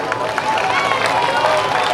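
Audience applause at a Hindi poetry recital, a dense continuous patter of many hands clapping that holds steady and fairly loud for about two seconds.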